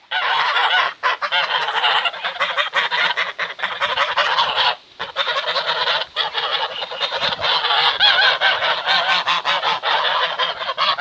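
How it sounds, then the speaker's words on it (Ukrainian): Loud, continuous honking of geese kept among chickens, many birds calling at once in a dense chorus, with a brief pause near the middle. "молоді кури і гуси."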